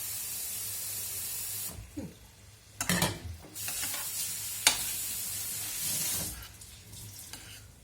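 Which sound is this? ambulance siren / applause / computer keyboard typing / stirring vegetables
stirring vegetables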